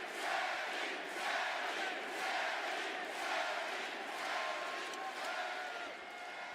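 A large arena crowd at a WWE Raw wrestling event cheers and chants in a steady, swelling roar that pulses rhythmically, sounding distant and fairly faint.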